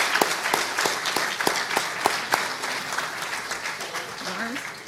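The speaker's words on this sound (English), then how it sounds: "we need to provide a round of applause for Lawrence and Paul and everybody else" Applause for panel speakers at the end of a conference session, a modest room of clapping with some sharp individual claps standing out and voices murmuring underneath.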